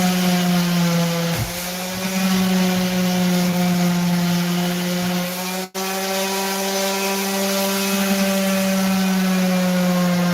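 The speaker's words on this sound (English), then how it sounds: "Hit it with the sander." A power sander runs continuously over wood boards, a loud, close, steady droning hum with abrasive rubbing layered on top and one brief dip in the middle, with no talking.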